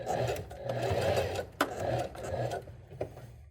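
Sewing machine stitching a trouser seam, a soft, fast, continuous mechanical patter that pauses briefly and then restarts, with a few sharp clicks between runs.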